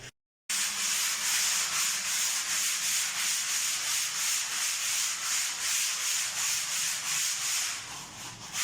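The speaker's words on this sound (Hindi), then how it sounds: "जब ये स्मूथ कर रहे हैं नए प्लस्तर को, रेगमाल लगा रहे हैं" Sandpaper rubbed by hand across a freshly plastered house wall gives a loud, close, rhythmic scratching in steady back-and-forth strokes. It starts after a brief silence and runs continuously for about eight seconds, with no speech.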